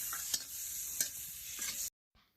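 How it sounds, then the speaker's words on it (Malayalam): Chicken liver sizzles in frying masala, loud and close, broken by a few sharp spoon scrapes as it is stirred, before the sound cuts off abruptly. "ലിവർ ഇട്ട് കൊടുത്തിട്ട് നന്നായിട്ടൊന്ന് മിക്സ് ചെയ്തെടുക്കണം."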